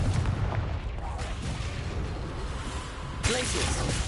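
Blasting spell cast in Hogwarts Legacy, with dense booming, explosive bursts throughout and a sharp new blast near the end, amid constant battle noise and a voice.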